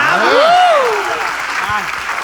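An audience at a live Gujarati comedy show breaks into loud, close applause, with a voice whooping and calling out over the clapping.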